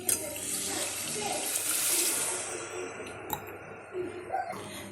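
Water from a glass is poured into a pot of rice for cooking, a splashing, rushing stream that swells and then trails off into a few drips and clinks in a kitchen.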